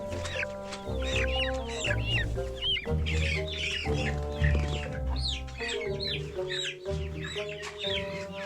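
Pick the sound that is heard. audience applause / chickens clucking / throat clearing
chickens clucking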